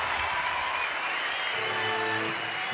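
Loud, dense applause and crowd noise at a rock concert for a band, sustained throughout, with tonal band sound beginning to rise underneath.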